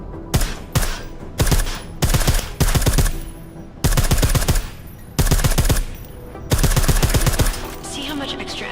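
Suppressed automatic gunfire from the video game Deus Ex: Mankind Divided comes in rapid, loud bursts of closely spaced shots, roughly seven volleys separated by brief pauses, with no speech heard.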